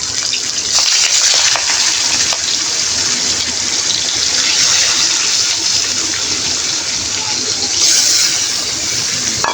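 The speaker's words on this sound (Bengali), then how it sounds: "এখন আমি মাছ দিয়ে দিব, এইভাবে একে একে মাছগুলা ভেজে নিই।" Pieces of pangas fish fry in hot oil in a kadai, giving a loud, steady, hissing sizzle that holds unbroken for the whole stretch, with a few brief clicks and spatters on top and no voices.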